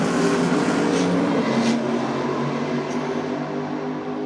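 A Top Fuel dragster makes a solo pass at a drag strip, heard as a distant, steady mechanical roar with faint crowd ambience around it.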